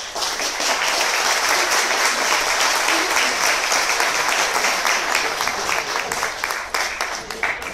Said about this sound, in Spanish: Y recibimos con un fuerte aplauso al primer cantautor